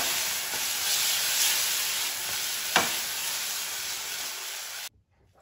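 Potato noodles tossed with chili powder and soy sauce: a dense, loud hissing sizzle with soft mixing rustles and one brief clack, cutting off abruptly to silence near the end.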